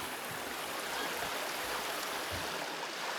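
A small stream trickles through a rocky sandstone and limestone gorge, its steady broadband wash of running water continuous and fairly close throughout, with no voices.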